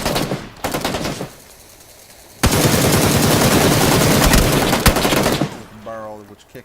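Rapid bursts of automatic gunfire in PUBG on Xbox One, two loud close volleys with a sustained stretch of dense shooting between them and a voice coming in at the end.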